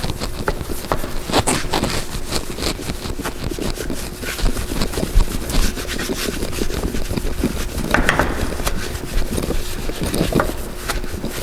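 Continuous close scratchy rubbing as a detailing brush scrubs the face of a car wheel, with uneven strokes and a few louder brushing swells along the way.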